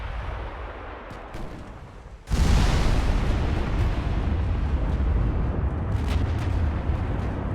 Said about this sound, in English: First hit, 6-inch gun on the main belt of a destroyer.